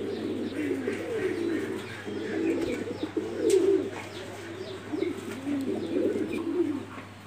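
English tumbler pigeons at a pigeon farm coo continuously in low, rolling phrases, close and steady, with faint chirps in the background and no talking.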